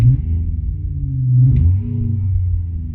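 A 2017 Renault Clio RenaultSport's simulated Clio V6 engine sound rumbles low and steady, its pitch rising slightly then dropping mid-way before settling into a steady drone.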